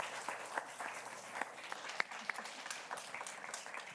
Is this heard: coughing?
no